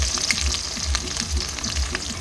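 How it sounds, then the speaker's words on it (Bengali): Chopped onion fries in oil with cumin, bay leaf and dried chili over a clay stove on a rooftop, an even close sizzle with rhythmic stirring scrapes. "পেঁয়াজ কুচিটা ভালো করে ভেজে নেব"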